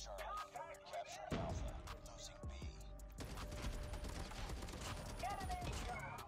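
Rapid bursts of DRH rifle fire in Call of Duty Mobile, a dense rattling fusillade of crisp shots with mechanical clicks and game effects mixed in, loud and close.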